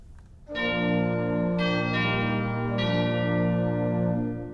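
Sustained chimes from a 2014 Martin Ott pipe organ in a Lutheran church, turned down in volume, with rich harmonic tones, several notes entering in layers and ringing steadily at moderate volume before fading at the end.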